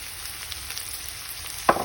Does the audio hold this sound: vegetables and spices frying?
yes